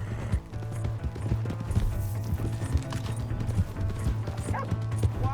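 Horse galloping in the game Red Dead Redemption 2, rapid rhythmic hoofbeats pounding close and steady under a low rumbling music bed.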